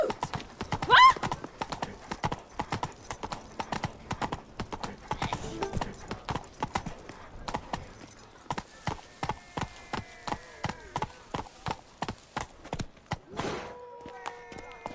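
Geralt's horse Roach galloping in The Witcher 3 video game, a rapid, steady run of hoofbeats at close range that slows into a more spaced trot, with a brief whinny and a voice heard briefly over it.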